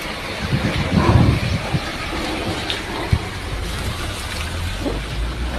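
Heavy rain pours down in a dense, steady hiss at a flooded bus terminal in Naga City, with a low rumble underneath, loud and close throughout.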